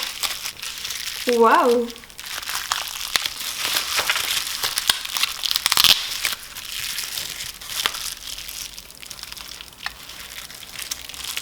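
A parcel from a creator being opened, its packaging crinkling and rustling continuously at close range, with a brief exclaiming voice near the start.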